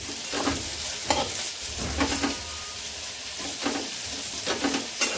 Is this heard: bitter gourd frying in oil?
yes